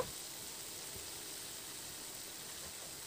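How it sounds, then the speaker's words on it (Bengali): Tomato puree and spices stir-frying in a pan for Dhaba-style rajma masala, a faint, steady hiss running unbroken throughout with no voices. "টমেটো পিউরিটা দিয়ে মশলার সঙ্গে খুব ভালো করে একটু নাড়াচাড়া করে এটাকে একটু কষিয়ে নেব"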